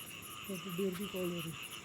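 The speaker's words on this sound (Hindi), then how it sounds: "मेंढकों की आवाज़ सुनिए" A brief, low, croaking frog call repeats a few times, fairly faint, over a steady chorus of night insects in forest in Pilibhit Tiger Reserve.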